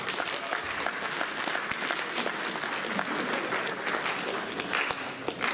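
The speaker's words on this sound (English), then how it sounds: "Let's give it a round of applause." A high school assembly audience breaks into a steady, dense round of applause, many hands clapping at once and filling the room for several seconds without letting up.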